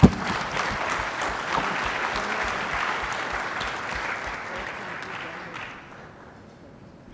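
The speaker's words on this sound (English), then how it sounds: "So I think big applause for both of you." Conference audience at a closing plenary session applauding, steady dense clapping from a large room that holds level for several seconds, then fades out near the end.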